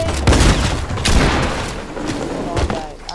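Rapid bursts of MP5 submachine-gun fire in a video game crackle in quick volleys, close and loud, and a voice can be heard through part of it.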